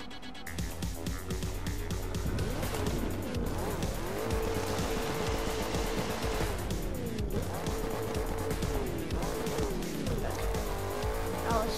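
A Ford Mustang GT Fastback races through a snowy course in the video game The Crew 2. The engine roars steadily while the tires squeal and skid repeatedly through turns.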